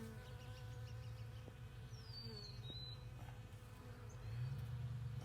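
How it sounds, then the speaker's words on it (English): Bees buzzing among the flowers of a saffron farm, a soft continuous drone close by, with an occasional higher whine as one passes near, under a quiet outdoor hum. "Lots of bees going to work on it."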